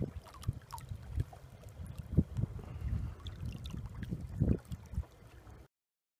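A boat trolling slowly out toward an island on a spring sea-run brook trout outing, steady low engine and water rumble with wind buffeting the microphone, fairly loud and continuous, no talking.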